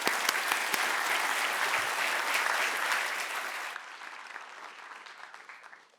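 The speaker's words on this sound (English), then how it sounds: "let's give them all a round of applause" An audience applauding a panel at a climate technology event, a full, sustained burst of many hands clapping that stays strong for several seconds and then thins and fades away.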